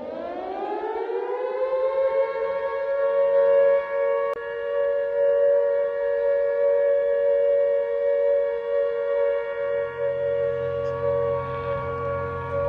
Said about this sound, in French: d'entendre les sirènes et les avions qui passaient pour la Belgique ou l'Allemagne